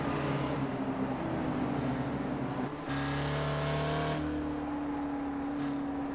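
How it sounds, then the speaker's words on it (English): An SRF race car revs around the NJMP Thunderbolt track, its engine a steady in-car drone that shifts pitch with sudden up-changes and accelerations, loud and continuous throughout. "Really, the amazing thing about this car is just its ability to just rev and accelerate."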